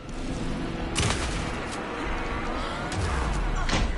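Gunfire in the video game Alan Wake 2: a dense, noisy barrage of shots and impacts with sharp bursts near the start, middle and end, all close and loud throughout.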